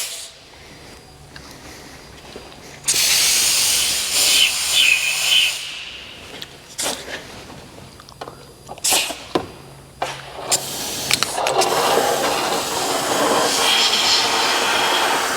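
Oil-blend rustproofing sprays onto the seams of a 2024 Ford Maverick, bursts of loud pressurized hissing separated by short pauses and quieter clicks.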